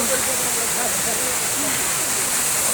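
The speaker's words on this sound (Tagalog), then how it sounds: "Ayan yung falls guys" A waterfall at Agoriani, Greece, gives a constant broad rushing roar close by, steady throughout the short stretch with faint voices underneath.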